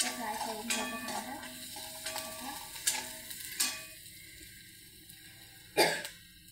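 Cabbage with crushed garlic and chili thecha fries in a pan with a low sizzle, broken by intermittent clinks and scrapes of stirring and a brief cough.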